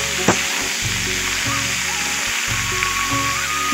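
Ridge gourd and potato curry fries in a pan, a close, steady sizzle with bubbling, broken by a couple of brief stirring clunks and low knocking underneath.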